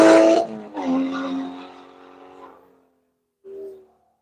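Race cars at the Nelson Ledges circuit roar past in quick succession, a loud close pass fading away over a few seconds, followed by a brief fainter engine note in the distance.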